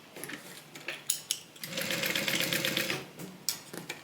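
A sewing machine bastes a Bible cover closed in one steady run of stitching lasting just over a second, set between small handling clicks and taps of the fabric up close.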